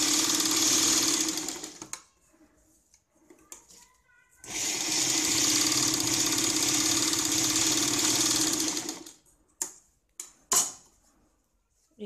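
A sewing machine stitches the lining of a blouse in two long whirring runs, with short bursts and clicks between them and a few pauses.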